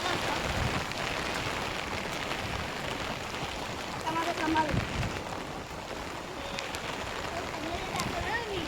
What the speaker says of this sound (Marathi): गार हवा सुटलेली आहे आणि पाऊस पण खूप आहे